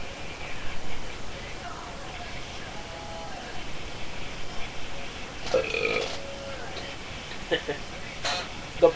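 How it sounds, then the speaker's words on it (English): A single loud burp from a man at a wrestling-style match event, standing out over crowd noise and talk, ending with a sharp burst at the close. "That burp was brought to you by my ass."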